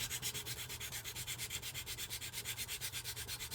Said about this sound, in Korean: 이 옆면 부분을 사포로 살살살 긁어줍니다